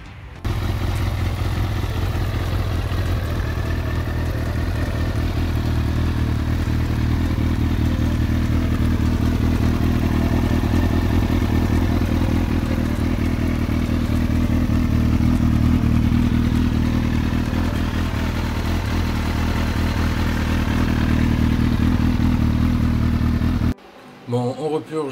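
A Kawasaki ZX6R motorcycle engine runs steadily at idle during a coolant flush after a water pump replacement, a loud continuous mechanical drone with light clatter that cuts out abruptly near the end.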